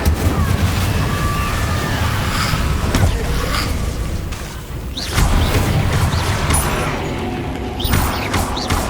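Incendio and Confringo spells are cast in Hogwarts Legacy as a run of loud, booming fiery bursts and crackling impacts over a dense game soundscape, with a short lull midway.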